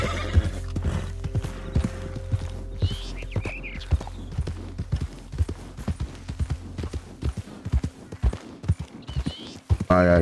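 A horse in Red Dead Redemption 2 Online whinnies and neighs while its hooves clip-clop in a steady walking rhythm, close and clear, with some speech around it.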